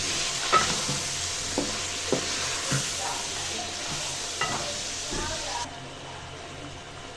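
Ground masala being stirred into half-cooked fried chicken in a pot for degi milk korma: steady sizzling hiss with a series of sharp spoon scrapes and knocks against the pot.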